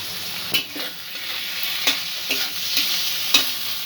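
Spices and ingredients being mixed in a hot pan, salt, turmeric, cumin, coriander and ginger paste: a steady sizzle broken by repeated scraping clinks of a spatula, several evenly spaced strokes, close and clear with no talking.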